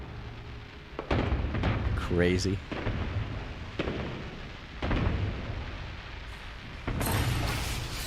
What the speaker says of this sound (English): Now the fireworks are coming out of it.